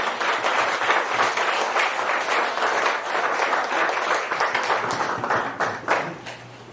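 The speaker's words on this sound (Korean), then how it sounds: "박수 쳐도 되죠?" Congregation applauding at a church ordination and anniversary ceremony, full steady clapping from many people in a room with a low hum, tapering off at the end after a final louder burst.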